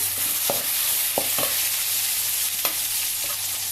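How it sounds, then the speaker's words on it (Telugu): Tomatoes sizzle in a pan with fried onions for sambar, giving a steady broadband frying hiss with a few sharp stirring clicks and spatula scrapes, close and continuous. "ఎర్రగడ్డ వేగిపోయింది టమాటా వేసాను"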